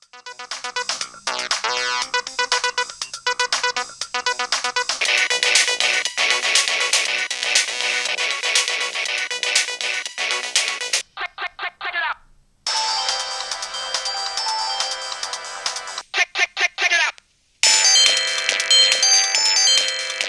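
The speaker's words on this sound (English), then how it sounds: "it seems that the chip is being emulated in software on top of Qualcomm's CMX sound font" Synthesized ringtone melodies from a 2006 Samsung SGH-Z370 phone, emulated in software on Qualcomm's CMX sound font, play one after another, bright electronic tones with brief silent breaks between tunes.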